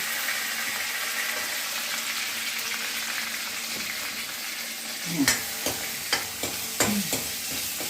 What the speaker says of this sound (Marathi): जिरे लसण परतताय